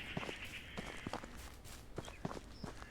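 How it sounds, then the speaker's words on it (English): Footsteps in the horror video game The Beast Inside, a quiet series of soft, irregular steps and scuffs over a faint background hum, with no talking. "It sounds like the footsteps are behind me."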